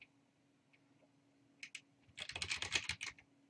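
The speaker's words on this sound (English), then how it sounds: "Go ahead and type in that password and then click Next." Typing on a computer keyboard while entering a password: a couple of isolated key taps, then a quick close burst of rapid keystrokes in a quiet room, with no talking.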